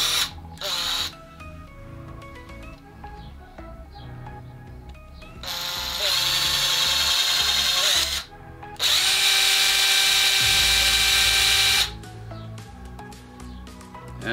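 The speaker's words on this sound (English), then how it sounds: "So I have my 5/64-inch drill bit," A power drill with a 5/64-inch bit whines in several bursts, drilling through a metal spray gun tip, rising and cutting off, with louder high-pitched drilling in the middle; quiet background sounds between bursts.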